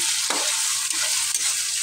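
Vegetables sauté with cabbage in a hot pan for ginisang cabbage, giving a steady close sizzle with brief stirring scrapes and no talking.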